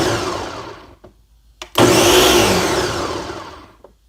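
A kitchen blender pulses cooked butternut squash into sauce: a loud motor burst that cuts out, a short quiet gap with a brief blip, then another strong whirring pulse that fades toward the end.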